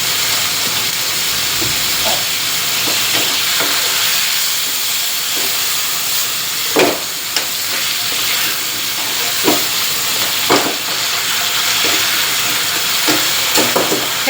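Kale and salted fish stir-fry over high heat in a pan, a loud continuous sizzling hiss broken by scattered clanks and scrapes of a spatula, with no talking.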